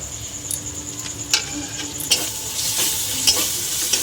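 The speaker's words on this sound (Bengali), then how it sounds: "মশলাটা ভালো করে কষিয়ে নেবো" Spice paste with salt, turmeric and red chili powder sizzles in a pan while a spoon stirs and scrapes it, close crackling with occasional sharp metallic scrapes.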